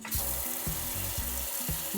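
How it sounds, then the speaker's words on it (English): Water gushes from a newly plumbed kitchen tap in a vintage Airstream, a close, steady hiss over rhythmic pulsing thumps, likely from the water pump. "hooked up our water pump, ran the lines from around the back of the Airstream, and turned on the water for the very first time"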